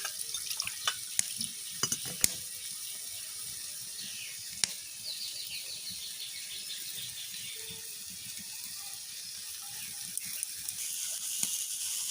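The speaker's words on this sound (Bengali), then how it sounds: "সর্ষের মধ্যে এখন জল দিয়ে গুলে নেবে" Water is worked into ground mustard seeds in a home kitchen, making a faint, continuous trickle and splash with scattered small clicks and taps close by.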